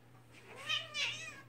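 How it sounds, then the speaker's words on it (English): A female cat gives two short, rising meows close by, faint over a low steady hum. "Yeah, there's Boo Kitty."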